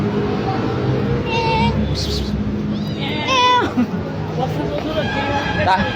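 A cat meows a few times, short rising calls set amid background chatter and people talking nearby.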